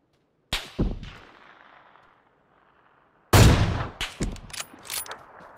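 PUBG gunshots: a sharp shot with a decaying echo, then after a silent gap a louder blast followed by several quick metallic clanks.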